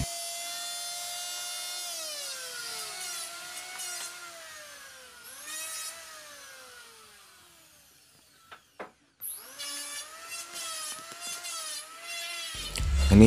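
An electric wood planer shaves along a board edge, its high whine sagging under load in long passes, then dropping off briefly before spinning back up.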